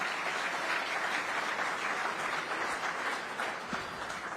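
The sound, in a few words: audience applause at summit session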